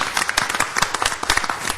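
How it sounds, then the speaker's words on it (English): A council meeting audience breaks into steady clapping, dense and continuous hand claps filling the room with no voices on top. "we'd like to give them a round of applause"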